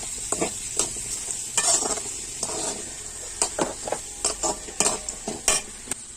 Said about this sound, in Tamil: இப்போ நிறைய வச்சுருக்க தக்காளி சேர்த்துக்கலாம் சேர்த்து நல்லா வதக்கி விட்டுக்கலாம்